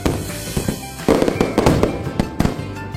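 Rapid fireworks bursts crackle and pop in dense succession, with several sharp louder bangs standing out among a continuous fizzing crackle.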